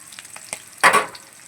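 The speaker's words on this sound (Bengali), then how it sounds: "পেঁয়াজটা আমি লাল লাল করে ভেজে নেব" Chopped onions hit hot oil in a pan and burst into a sudden loud sizzle under a few light clicks and scrapes. There is no talk.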